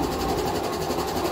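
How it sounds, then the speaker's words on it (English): An air compressor runs steadily in a workshop, a continuous loud mechanical hum with a rapid pulsing rattle, no talking over it. "Excuse the air compressor."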